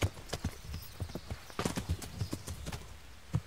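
Horse hooves clip-clop at a steady walking rhythm in the medieval video game Kingdom Come: Deliverance, a series of close, distinct thuds with no talk over them.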